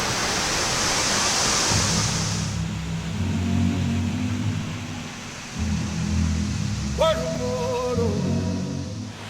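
Sing Sing Angin waterfall in Bali, a broad steady rush of falling water that dips and swells, with a low rumbling hum underneath and a brief whistling tone near the end.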